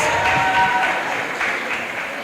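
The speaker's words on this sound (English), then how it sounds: "Give him a round of applause." Brief burst of audience clapping at a school debate finale, a dense patter of many hands that fades within a couple of seconds.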